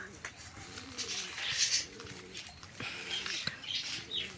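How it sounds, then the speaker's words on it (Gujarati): Several pigeons coo in low, throaty bursts close by, overlapping one another, with faint chirps and rustling in the background. "અહીંયા સાવડા બધા કબૂતર બેઠા છે"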